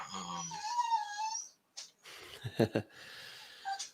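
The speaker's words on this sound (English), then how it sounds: "Sorry, that's my dog." A dog whining and snorting nearby, a drawn-out high whimper followed by a short pause and a burst of snuffling snorts, with a faint whine at the end.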